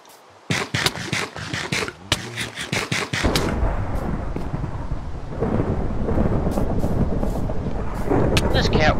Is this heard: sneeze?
no